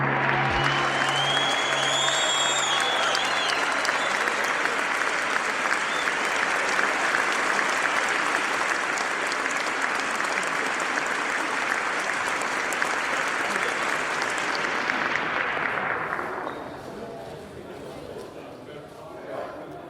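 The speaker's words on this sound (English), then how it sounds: "Applause." Audience applause after a live storytelling performance, a loud, steady wash of clapping sustained for about fifteen seconds before dropping away to a quieter tail; a voice is briefly audible at the start.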